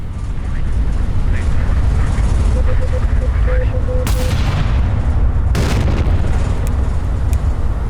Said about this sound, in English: Oh, my guns are actually firing.